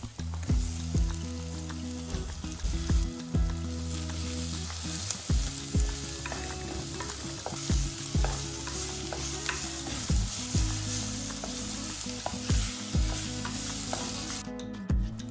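Sliced onions with ginger garlic paste fry in a pan, sizzling steadily while a spoon stirs and scrapes in repeated bursts, close and clear, with no talk.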